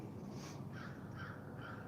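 Outdoor crows give about three hoarse caws, evenly spaced and faint, sounding some distance away over a steady low background noise.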